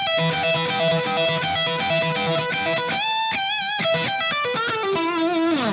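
An electric guitar plays a repetitive rock lick, fast repeated notes that give way to sustained, bent and vibrato tones, close and loud with no talk.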